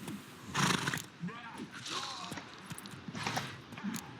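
A horse in the video game The Witcher 3: Wild Hunt whinnies loudly at close range, followed by snorts and hoof clops, with character voices talking over parts of it.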